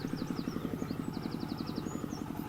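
A small motorcycle-type engine runs at a steady, rapid, even putter close by, while birds chirp intermittently in the background.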